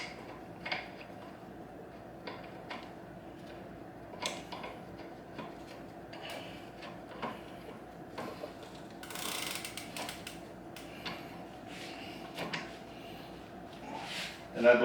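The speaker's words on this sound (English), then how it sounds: "we're going to go ahead and install the pedals" Pedals being threaded onto a budget RIDSTAR e-bike with a wrench, giving soft repeated ticking and ratcheting clicks at close range over a steady low background hum, with a few brief louder knocks.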